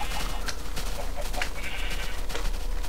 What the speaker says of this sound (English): we got a whole herd of sheep here